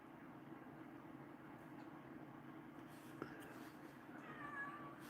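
A cat meows softly in a quiet room, a faint short call near the end over low steady background hum, with a small knock just before.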